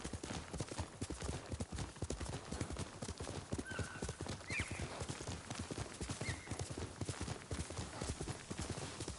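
Horse hooves clip-clopping at a steady trot through the Ghost of Tsushima video game world, with a brief whinny, layered over a constant dense wash of ambient background sound at moderate level.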